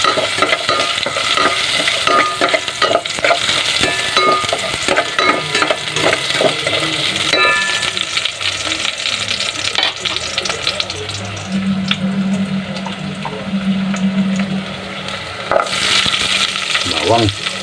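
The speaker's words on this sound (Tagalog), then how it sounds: "lagay na po natin yung luya mga kabarok. Luya unahin natin." Ginger sizzles loudly in a hot pan while being stirred, with a dense steady frying hiss and repeated scraping of the utensil against the pan throughout, plus a brief lower rumble midway.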